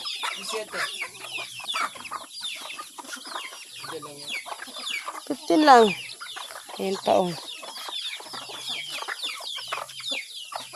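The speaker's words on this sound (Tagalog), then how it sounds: "Ayan yung manok." Chickens cluck steadily on a farm, with one louder burst of fowl calls near the middle and a rooster-like cry faintly mixed in, while a person talks briefly over the flock.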